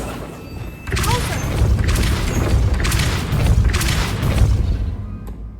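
The Incendio fire spell is cast in the video game Hogwarts Legacy, producing a loud sustained whooshing roar with rumbling bursts. The blasts swell and fade several times over several seconds.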